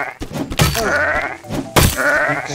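Sheep bleat in the medieval survival video game Reign of Kings, two loud close wavering bleats a second apart over game background noise.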